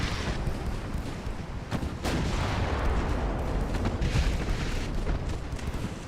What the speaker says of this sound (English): Gotta love all these guns. And they are firing fast.